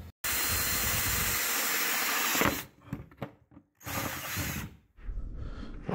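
Power drill boring holes in a plastic chum bucket, a steady loud whine for about two seconds, then shorter bursts of drilling with pauses between them.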